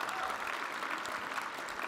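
An audience at a SXSW Hall of Fame induction claps steadily as a dense, continuous wash of applause. It is moderately loud and has no talk over it.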